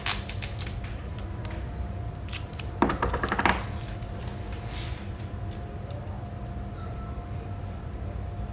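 Scissors snipping through material for a Dollar Tree craft project, a brisk run of crisp close cuts near the start and a dense burst of rapid snips mid-way, over a steady low background hum.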